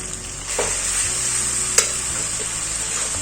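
Spice masala of tomato, onion, ginger paste, turmeric, coriander and cumin powder with a splash of water sizzles steadily in a pan, with a few sharp scrape-like stir clicks over the continuous frying hiss.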